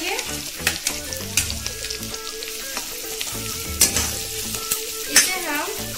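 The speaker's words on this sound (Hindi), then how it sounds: "अब हम इसमें कटे हुए प्याज डालेंगे," Chopped onions sizzle and fry in a pan for mixed dal, with a steady crackle broken by clinks and scrapes of a spoon stirring against the metal.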